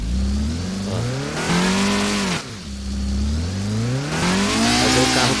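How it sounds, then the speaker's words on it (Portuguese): A car engine revs hard while the car skids round in donuts, rising in repeated swooping surges, dropping briefly, then climbing again, loud and close with tyre scrub underneath. "fazer o carro ficar derrapando assim"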